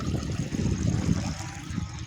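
Water from a small dam on a canal rushes and trickles in a steady, close, low churning flow, with no voices heard.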